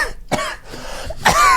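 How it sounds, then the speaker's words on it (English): A person on a podcast coughs and clears their throat in a few loud, close bursts separated by short pauses, with no talking over them. "Having a podcast and then coughing a bunch."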